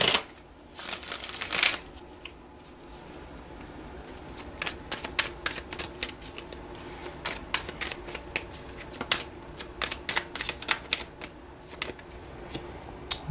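Tarot cards are shuffled by hand, a quick burst of riffling followed by many short papery slaps and flicks in uneven bursts, close and fairly quiet, with no talking.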